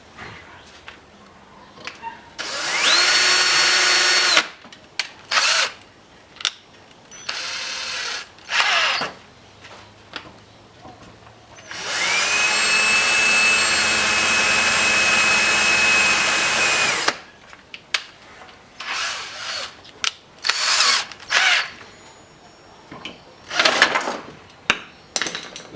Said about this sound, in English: Let's try and find a better drill bit.